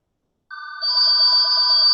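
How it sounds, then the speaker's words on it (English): A phone rings during a Rotary club meeting, a steady electronic ringtone that starts abruptly and grows louder, continuing alone without talk. "Somebody's got a phone call."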